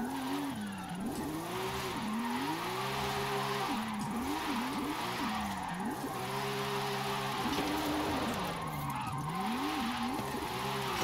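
A pickup van in Forza Horizon 5 drives and drifts, its engine note rising and falling through repeated revs and shifts, with tire squeal underneath, steady and close throughout.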